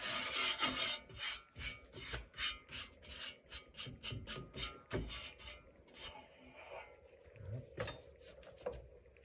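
A hand file rasps across the blade of an old shovel in a run of quick, evenly paced screechy strokes, loud and close, with a few scraping pauses toward the end.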